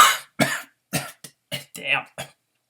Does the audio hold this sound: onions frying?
no